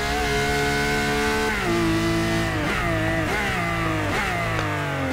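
Ferrari LaFerrari hypercar engine in the Forza Motorsport 6 racing game, a loud, continuous high-pitched wail that climbs through the revs with several sharp drops at gear changes.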